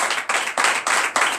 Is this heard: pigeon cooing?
no